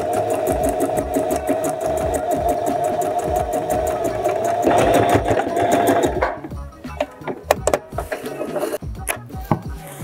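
Sewing machine stitching the side seam of a pair of trousers, a steady rapid close whir with fine needle ticking for about six seconds, then stopping into handling clicks and rustles.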